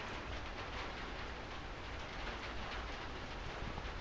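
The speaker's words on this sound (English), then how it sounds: "It's absolutely persistently raining again." Persistent rain falls outdoors, giving a steady, faint, even hiss throughout with no gaps and no talking.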